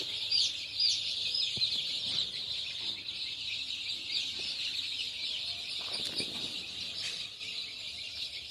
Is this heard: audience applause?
no